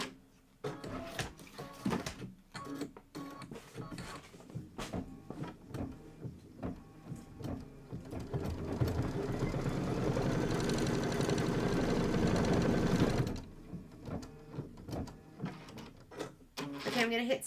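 Kimberbell applique block being stitched on an embroidery sewing machine, a steady mechanical whir that builds for several seconds in the middle, set among scattered handling clicks and taps from fabric work.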